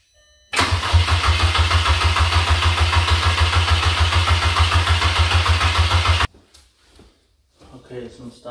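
An engine cranks steadily for about six seconds with a rapid, rhythmic churning but never catches, then stops, leaving quiet with faint noises and brief talk.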